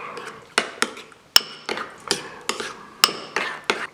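Fajita beef and vegetables are stirred in a pan. A utensil knocks and scrapes against the pan in about a dozen clattering strokes at an irregular, brisk pace, close and fairly loud, with no talking.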